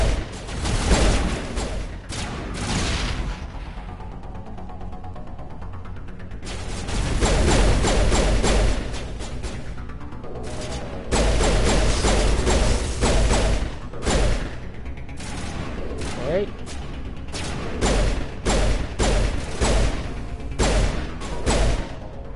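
Assault rifle fire in the Mass Effect game, with repeated sharp shots coming in several bursts across the clip. Gaps between the bursts hold quieter game noise.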